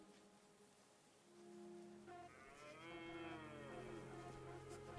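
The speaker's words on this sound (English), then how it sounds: "What the hell is that noise? Is that a cow?" A cow moos as a hallucination in the Winter Survival Simulator game: a long, drawn-out bellowing low, rising in pitch and sustained for several seconds over a quiet wind-like background, fairly clear and alone.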